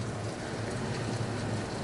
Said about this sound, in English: We're having torrential downpours right now.